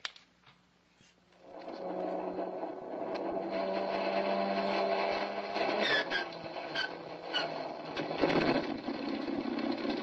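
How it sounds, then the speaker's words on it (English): Aircraft engine number one cranks and catches after near silence, settling into a steady, loud mechanical drone with rattling texture throughout the old-time radio drama scene. "Here we go with engine number 1."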